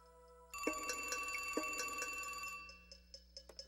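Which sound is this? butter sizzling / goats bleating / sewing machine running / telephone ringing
telephone ringing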